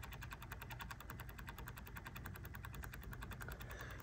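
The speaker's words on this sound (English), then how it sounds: "That noise is coming from this worm gear." A steady, rapid mechanical ticking from a Porsche 944 odometer worm gear runs evenly over a low motor hum, close up and fairly quiet.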